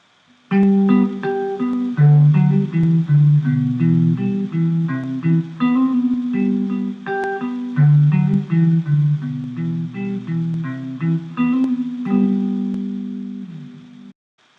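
An acoustic guitar plays the bridge alone, with steady strummed and picked notes that ring out clearly and stop near the end.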